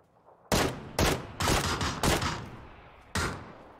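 Gunfire in the battle-royale game PUBG on PC: five sharp, loud shots with short reverberant tails, irregularly spaced over a few seconds, with no talk.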